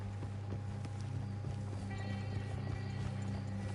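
Horse hooves clip-clop at a steady walking pace in Red Dead Redemption 2, a regular patter of soft thuds over a low ambient hum, moderately close.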